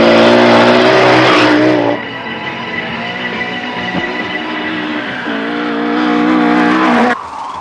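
Audi quattro four-wheel-drive turbo rally cars racing on snow and ice, engines roaring loud and close, revving and shifting pitch as they pass, with brief tire noise and a sudden cut-off near the end, no talk.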